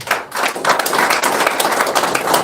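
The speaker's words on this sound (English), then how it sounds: "Another round of applause for him." Applause breaks out at a press conference after a political speech about a disputed election, a dense, steady patter of many hands clapping that carries on for the whole stretch, close and fairly loud.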